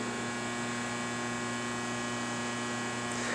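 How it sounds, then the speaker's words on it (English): A steady, loud electrical hum from overhead lights in a car dealership showroom drones on continuously with a constant buzzing tone and no other sounds. "Apologize for the volume of the overhead lighting. It's very, very bright so you can see everything, but the trade-off is that they're very loud."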